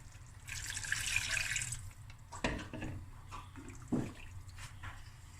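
Water pours into a pot being readied for a seafood boil, a steady splashing rush that builds in the first two seconds, then thins to scattered drips and small splashes, close by and moderately loud.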